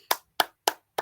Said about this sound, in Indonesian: Kita kasih tepuk tangan ke yang bertanya.